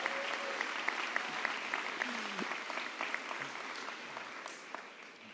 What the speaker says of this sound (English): Go ahead, clap for them.